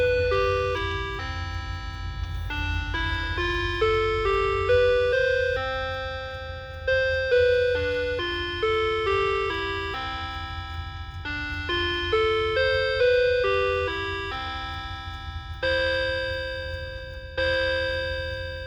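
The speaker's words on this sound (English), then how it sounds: "So here's Whittington." Seiko dual chime clock playing its Whittington chime, a long sequence of clear, ringing bell tones in stepped melodic phrases with lingering decay, close and without talk.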